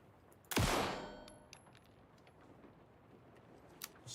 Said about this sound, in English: Can't we just shoot the lock off?